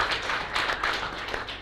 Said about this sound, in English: I think that deserves a round of applause as it goes